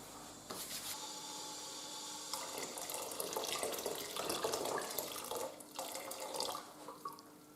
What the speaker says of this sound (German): In der Zwischenzeit setze ich mal einen Topf mit Wasser an.